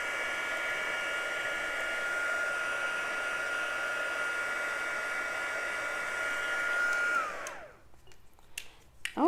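A heat tool blows steadily at close range while melting embossing powder on a card, a loud continuous whirring hiss that winds down near the end, followed by a few light clicks and handling noises.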